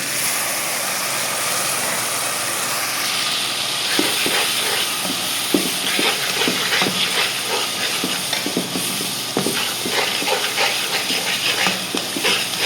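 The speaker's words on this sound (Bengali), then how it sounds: "পানি দিয়ে দিই" Water poured into a hot pan of frying fish with spices makes a loud, steady steam hiss, with scattered crackles and stirring clatter through the second half.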